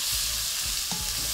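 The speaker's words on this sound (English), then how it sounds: "You're gonna saute this for about 30 seconds. Add in about 1 cup of carrots." Carrots sauté in a pot with a dense, constant close-up sizzle and a few soft stirring scrapes, brief and with no speech.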